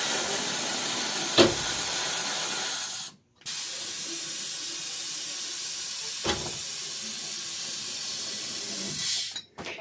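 Compressed air hisses loudly and steadily from a refurbished Dewalt DXCM601 air compressor, cut by one brief pause near the middle and another at the end.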